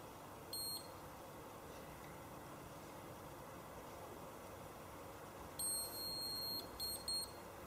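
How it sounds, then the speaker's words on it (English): Two short electronic beeps from a skincare device timer, the second a longer tone followed by two quick ones, ring out over a low steady hum. "That final beep just indicates that my 2 minutes are now up"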